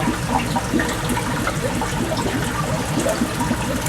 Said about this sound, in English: I've got the water coming in